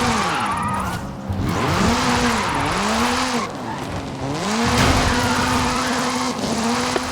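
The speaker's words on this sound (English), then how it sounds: "This is Mr. Kenneth Block's Hooligan Gymkhana 10 Ford Focus RS RX" The Hooligan Gymkhana 10 Ford Focus RS RX, a 2-litre turbocharged all-wheel-drive rally car, drifts in the video game Forza Horizon 5, its engine note rising and falling in loud sweeping revs under continuous tire squeal, with no voices.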